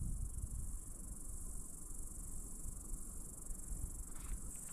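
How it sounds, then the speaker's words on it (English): Cicadas singing along a forest trail on the Pacific Crest Trail, a faint steady high-pitched shrill that holds unbroken throughout, over a soft low rumble of open air. "I think these are cicadas that I can hear singing in here."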